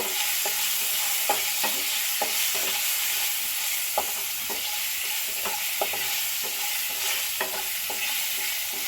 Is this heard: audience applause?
no